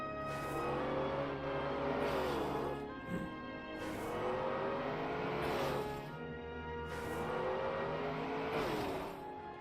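Car engine in a video game revving and shifting repeatedly while drifting a snow car, steady rising-and-falling engine tones with tire noise underneath, moderately quiet, no talk.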